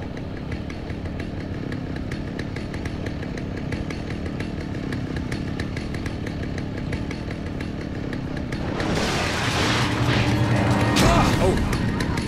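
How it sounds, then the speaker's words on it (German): A chainsaw in the video game Alan Wake snarls steadily, a buzzing motor drone throughout that grows harsher and louder near the end, with a burst of noisy impact sound. "Hier eine Kettensäge."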